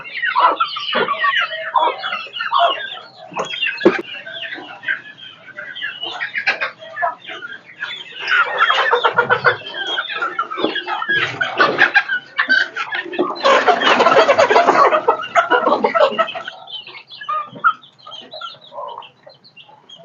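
Native country hens on a small-scale poultry farm cluck and squawk in a busy, overlapping chorus, with bursts of louder flapping commotion nearby.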